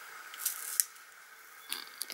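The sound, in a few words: scissors cutting paper strips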